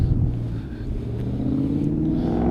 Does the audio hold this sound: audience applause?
no